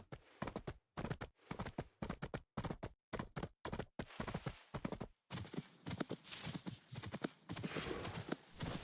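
Horse hooves clip-clopping in the video game Where Winds Meet, a steady, close rhythm of hoof strikes that briefly pauses and then resumes, with a faint whinny.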